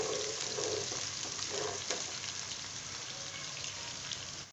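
Chopped onions fry in a pan for a mixed potato, carrot and pea sabzi, giving a steady, close sizzling hiss with soft stirring scrapes throughout, no voices.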